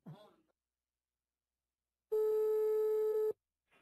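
A telephone ring tone sounds once down the line for a prank call, a single steady electronic tone of about a second, clear and close, with brief speech just before and just after.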